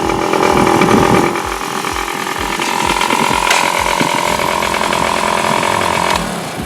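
A 1979 Yamaha DT50 motorcycle engine revs flat out in third gear, a loud, steady buzzing two-stroke drone held near the microphone for several seconds before easing slightly at the end.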